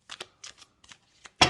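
Tarot cards are shuffled by hand in several quick bursts of crisp riffling and slapping, separated by short pauses and ending in a louder final riffle.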